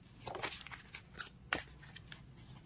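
Tarot cards being shuffled close by, quiet papery riffles and soft snaps coming in quick irregular bursts with faint flicks between them.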